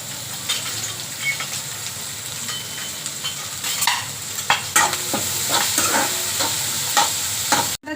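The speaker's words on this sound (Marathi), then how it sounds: "छान असं भाजून घ्यायचंय सगळं। कांदा हा लाल झाला पाहिजे।" Chopped onions fry in a pan for a yellow potato bhaji and are stirred, giving a steady close sizzle with repeated scraping spoon strokes and soft clinks, and no voices.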